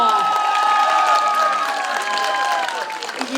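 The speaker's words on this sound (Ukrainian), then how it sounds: "Оплески Івану." A crowd applauds and cheers, bright and busy, with some shouting over the clapping and sustained tones in the background.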